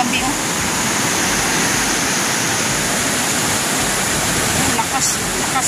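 Strong floodwater rushes through the Piñan river in a loud, continuous roar, broadband and steady throughout, without clear talk over it.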